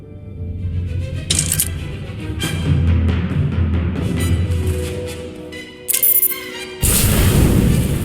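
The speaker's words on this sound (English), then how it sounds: "reports of an explosion near the ion cannon" An explosion goes off near the ion cannon in Star Wars: The Old Republic, booming and cracking among layered game sounds, with sharp bursts that rise to a loud, broad roar at the end.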